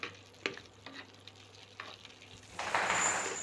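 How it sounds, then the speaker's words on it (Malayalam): Cashews and raisins sautéing in ghee in a flat pan give a faint, quiet sizzle with a few soft stirring clicks, and the frying hiss swells louder toward the end. "ഒരു പരന്ന പാത്രത്തിൽ ഇത്തിരി നെയ്യ് ഒഴിച്ചിട്ട് അണ്ടിപ്പരിപ്പും മുന്തിരിയും ഒന്ന് വഴറ്റിക്കോരുക"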